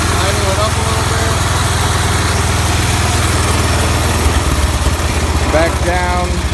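A John Deere 140 H3 garden tractor engine idles with a loud, steady low throb, rising briefly in pitch near the end when it is revved up a little.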